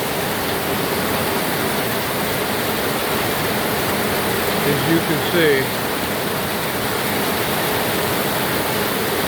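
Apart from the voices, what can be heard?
heavy monsoon rain pouring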